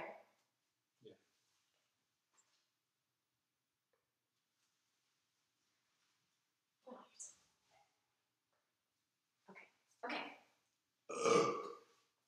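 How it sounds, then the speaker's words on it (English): Several burps from a person at a casual brunch, short and separated by quiet gaps, growing louder and longer toward the end, with the last one the strongest. "Okay, I know I keep burping"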